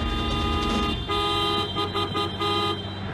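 A car horn sounds in a street scene from a Telugu film, blaring in sustained tones over a dense, musical background mix for about three seconds.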